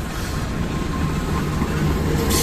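A CC 203 diesel locomotive hauling a passenger train passes close by with a steady, loud rumble and rolling rail noise throughout, with no talking.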